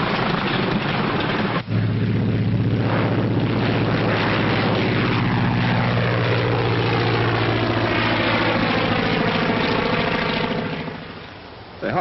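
A propeller airliner drones steadily in flight aboard a 1939 aircraft, its engine hum starting abruptly and holding loud and continuous, with a rumbling low tone throughout before easing slightly at the end.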